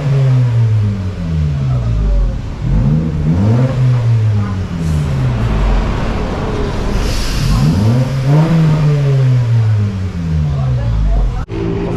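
A loud Honda Fit engine with its rear muffler removed revs up and down repeatedly with a raw, throaty roar, each rise and fall clearly audible up close.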